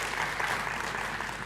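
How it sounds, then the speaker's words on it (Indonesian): Brief, dense applause from a church congregation for four participants after a sermon demonstration, continuous clapping at steady level. "boleh tepuk tangan buat mereka berempat ya"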